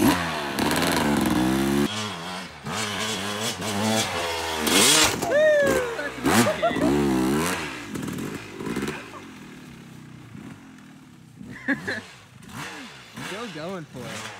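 A dirt motorcycle revs and bogs on soft dirt, its engine rising and falling in pitch through repeated throttle bursts, with people talking and shouting over it.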